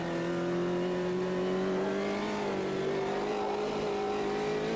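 A race car engine in the sim racing game Automobilista 2 holds a steady, sustained drone, rising slightly in pitch as it revs. The sound is loud and continuous, with no speech.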